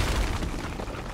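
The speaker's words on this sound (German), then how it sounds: "Das war eine ordentliche Explosion." A deep, rumbling explosion in Uncharted: Drake's Fortune with heavy low-end boom that decays into a sustained roar over about a second.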